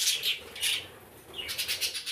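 Pair of budgerigars, a rainbow sky-blue violet-factor bird among them, chirping in a cage with bright, rapid tweets in bursts at close range and no talking.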